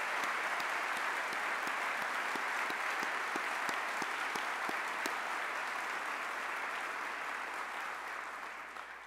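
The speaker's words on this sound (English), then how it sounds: "That deserves a round of applause too." A crowd at a Pride award ceremony applauds steadily throughout, dense clapping that holds at a constant level and fades slightly at the very end.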